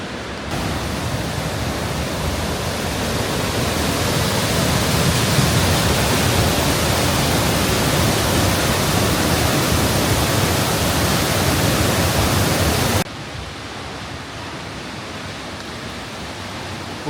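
Peričnik waterfall in the Vrata valley pours down steadily, a loud, dense, unbroken roar of rushing water that holds for most of the stretch, then drops abruptly to a softer, more distant rush.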